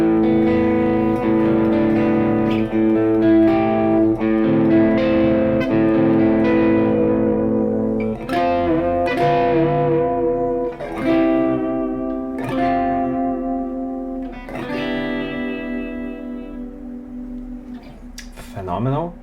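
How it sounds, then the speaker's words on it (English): Crunch-channel electric guitar through a Kemper profiling amp, lightly overdriven chords strummed in a steady series of loud, close hits, each ringing out and decaying before the next, over roughly twenty seconds. "my crunch channel."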